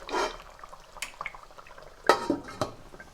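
A metal lid clinks onto a cooking pot of beef pasanda, a few sharp close knocks and rattles of metal on metal with quiet kitchen noise between them.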